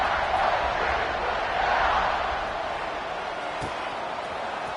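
A college football stadium crowd roars in the fourth quarter after a score, a dense, continuous buzz that swells early and then eases to a steady lower hum.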